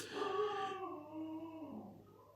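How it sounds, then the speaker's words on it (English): A dog whimpers and whines in one drawn-out, wavering cry that fades over about two seconds, faint and close with no talk. "Yeah, that was my dog."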